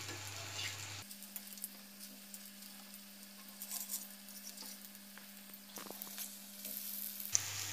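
Dalia cutlets fry in a pan with a steady, close sizzle, while a spoon turns them over with a few soft scrapes and taps.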